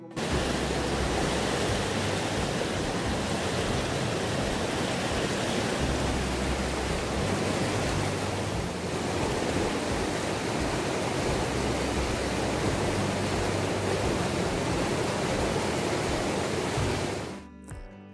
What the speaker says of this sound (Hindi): पत्थरों से टकराकर उछल कूद करता चंद्रप्रभा का पानी